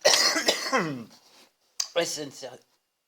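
A man coughs and clears his throat in harsh, close bursts, two separate fits divided by a brief silence, loud and raspy.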